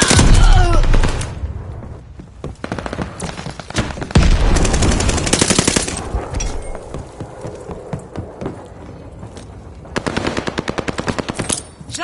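Rapid machine-gun bursts and repeated gunshots in a video game, with a loud sticky bomb blast near the start and heavy booming around the four-second mark, the firing continuing in stuttering volleys to the end.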